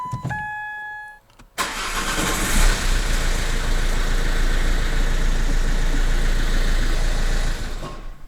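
A car engine is started in the cold with a rubber primer bulb attached to the fuel line. A short cranking is followed by the engine catching and running loudly and steadily close by until near the end.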